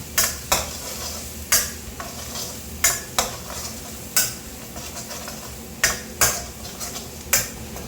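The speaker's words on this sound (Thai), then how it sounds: "ตั้งกระทะใส่น้ำมันพืชลงไปเล็กน้อยครับ ใส่กระเทียมสับลงไป 2 ช้อนโต๊ะ" A metal utensil scrapes and taps against a wok at irregular intervals, about a dozen sharp clinks over a steady low sizzle of minced garlic frying in oil over medium heat, close and fairly quiet.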